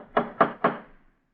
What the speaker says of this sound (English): Funny they'd have a fancy door knocker like this way up here.